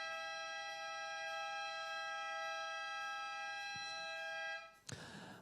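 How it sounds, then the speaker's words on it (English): A loud, sustained siren marks the start of the men's longboard surfing final at the Australian Longboard Surfing Open, holding a steady multi-tone wail for about five seconds before cutting off abruptly, followed by a brief rustle. "there'll be another siren in 5, 4, 3, 2"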